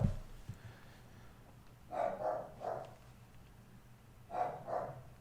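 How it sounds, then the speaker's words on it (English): A dog barks a few times in two short bursts, somewhat distant and moderately loud over a quiet room background. "My dog's still barking."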